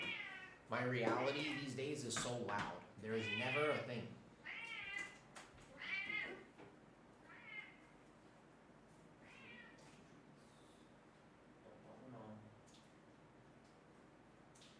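Two vocal house cats meow repeatedly indoors, their loud, drawn-out calls clustered early and fading to fainter, sparser cries later, with a person talking now and then.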